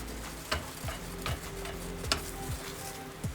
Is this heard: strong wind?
no